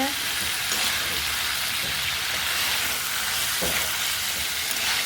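Shrimp, potatoes and drumstick leaves sautéed together in a pan, a loud steady sizzle with a few soft stirring scrapes, close and continuous.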